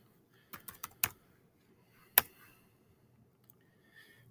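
A student's last name being typed on a computer keyboard: a short run of quiet close key clicks, then a sharper single tap and a faint click, in a quiet room.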